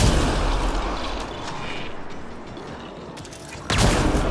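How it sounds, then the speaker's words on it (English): A loud mechanical whir with ratcheting clicks as an assault turret deploys in Mass Effect Andromeda, followed by a sharp burst of noise near the end. "We are gonna toss ourselves a assault turret and get to work."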